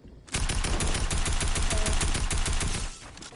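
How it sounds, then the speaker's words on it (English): Rapid automatic gunfire in Fortnite, a dense, loud burst of fast repeating shots lasting about two and a half seconds before cutting off, with no talking over it. "stop shooting me down"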